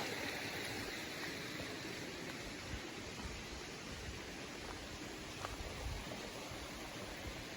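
A small mountain waterfall and stream tumbling over rocks on the Appalachian Trail, heard as a steady, even rush of water that holds constant from start to finish, with no voices.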